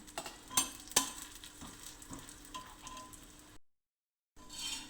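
Ghee sizzling and crackling in a pan while methi roti cooks, with a few sharp clinks of stirring up close, then a brief silence before the sizzle returns.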